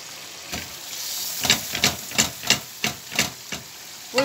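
Butter melts and sizzles in a pan as the base of a béchamel for lasagna, heard as a steady close hiss with a string of sharper crackles and spits.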